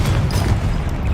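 Confringo blasting curse explosion in Hogwarts Legacy, a heavy booming blast with a deep rumbling low end, loud and close, sustained through a short burst.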